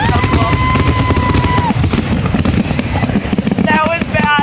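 Fair fireworks bursting in a rapid, dense volley of loud bangs and crackles, with whistling rockets rising early on and again near the end, and a voice in the crowd underneath.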